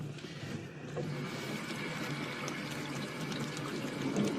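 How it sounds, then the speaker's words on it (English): Steady running tap water, hands being washed under it after surgery, a continuous close rushing wash lasting the whole stretch with no talk. "I guess I'll wash my damn hands."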